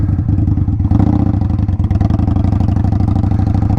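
An Indian Scout motorcycle pulls away in second gear, its V-twin engine chugging loudly and closely with a lugging low-rev pulse that rises slightly as it gets moving.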